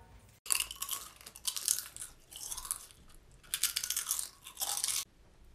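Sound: loud chewing and crunching of chips

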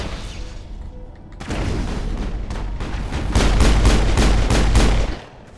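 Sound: gunfire in the video game Mass Effect

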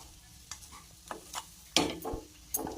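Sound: stirring poha (flattened rice) in a pan after adding salt

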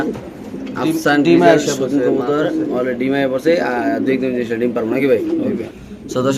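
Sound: pigeons cooing at a pigeon sale

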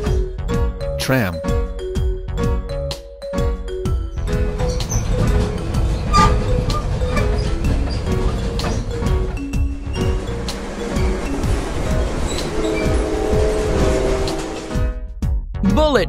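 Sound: toy tram sound effect, rail vehicle with bell

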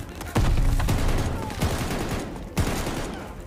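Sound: machine gun nest firing in video game Call of Duty Vanguard

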